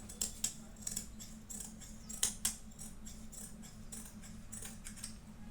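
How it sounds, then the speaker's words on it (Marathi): Scissors cutting fabric for a one-year-old girl's frock, a series of soft crisp snips in uneven bursts with short pauses, close but quiet over a low steady hum, no talking. "हे कापून घ्यायचं सगळं."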